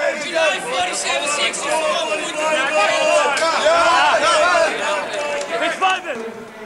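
Crowd of traders on the Amsterdam stock exchange trading floor, a dense continuous babble of many voices with overlapping shouts, steady and fairly loud throughout.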